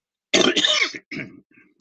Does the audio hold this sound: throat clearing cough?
yes